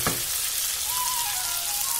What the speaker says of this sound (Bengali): এবার আমি বেগুনগুলো এতে দিয়ে দিলাম, বেশ কিছুক্ষণ নাড়াচাড়া করতে হবে।